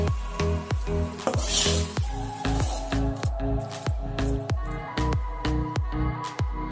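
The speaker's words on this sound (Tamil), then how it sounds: "கடைசியில் அரை டீஸ்பூன் நெய் சேர்த்துட்டு கிண்டி விட்டுறலாம்" A Bengali potato curry with ghee, kasuri methi and curry leaves is stirred in a pan: about a dozen rhythmic, wet squishing scrapes over a soft sizzle, close and fairly loud.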